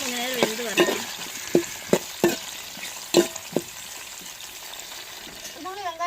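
Tomatoes and eggplant sizzle in hot oil while a utensil clacks and scrapes repeatedly against the pan, with a faint voice briefly audible near the end.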